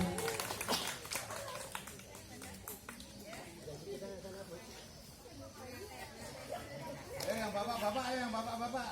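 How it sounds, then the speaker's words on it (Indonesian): Applause from an audience at a fire safety outreach session, a burst of clapping at the start and again near the end, with a voice speaking and crowd chatter in between. "tepuk tangan buat Ibu"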